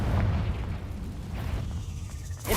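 A Confringo fire spell explodes in Hogwarts Legacy on PS5 as a deep, rumbling boom that swells and lingers at moderate loudness, with a sharper burst right at the end.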